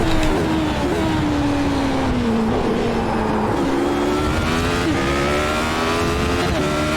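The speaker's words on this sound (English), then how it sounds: "listen to the engine, listen to the tyres" A Radical SR8 race car in iRacing at Imola, its engine droning loud and close with rising and falling pitch through gear changes, tyres hissing and scrubbing beneath.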